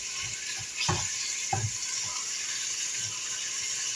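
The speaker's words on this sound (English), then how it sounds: "you can probably hear that sizzling away" Pork chops sizzle and fry in the pot of a pressure cooker, a steady close hiss with a few louder stirring scrapes and bubbling pops, no talking.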